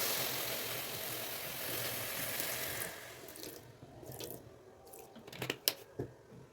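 A little water poured over a few spoons of sugar to start a syrup for carrot pantua, a steady trickle that stops partway, followed by a few clinks and taps of a spoon or pan.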